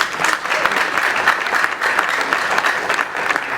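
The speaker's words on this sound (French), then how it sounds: "Si on peut applaudir pour eux." A room full of people at a press conference breaks into loud, continuous clapping, dense and close, holding steady without talk for a few seconds.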